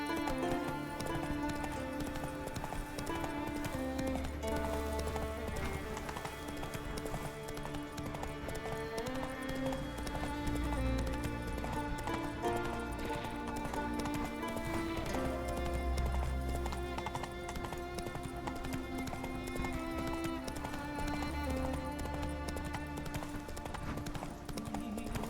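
Roach the horse gallops in The Witcher 3, with rhythmic hoofbeats arriving in repeated bursts beneath steady, continuous game music.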